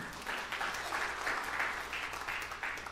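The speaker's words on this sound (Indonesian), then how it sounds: "Tepuk tangan yang meriah untuk kemuliaan nama Tuhan." A church congregation applauds warmly during a sermon, a steady, fairly distant wash of many hands clapping that continues unbroken for a few seconds.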